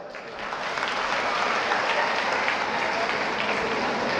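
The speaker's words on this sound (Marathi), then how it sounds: "त्याच्यासाठी जोरदार टाळ्या वाजवा" A comedy lecture audience breaks into loud, sustained applause that swells within the first half second and continues as dense clapping to the end.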